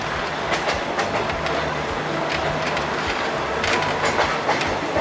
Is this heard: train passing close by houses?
yes